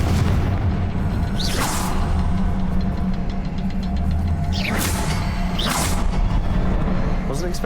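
In Hogwarts Legacy, Confringo blast spells go off as sharp whooshing bursts with booming impacts, heard twice amid dense game ambience and background sound.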